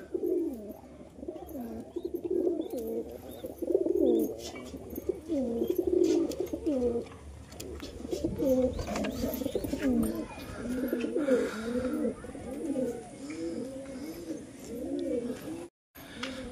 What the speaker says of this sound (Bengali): আমাদের বাড়ির কবুতর কোথাও উঠেছে দেখো